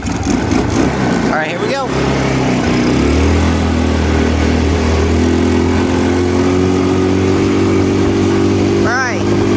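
An ATV engine starts and settles into a steady, loud running drone with harmonic hum, close by, while someone speaks briefly over it near the start.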